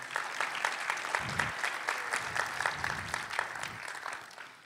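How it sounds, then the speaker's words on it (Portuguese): A church youth congregation claps for a man's life, a loose, moderately distant wave of applause with scattered individual claps and a few low thumps, gradually thinning toward the end. "Manda salva de palmas pela vida desse homem."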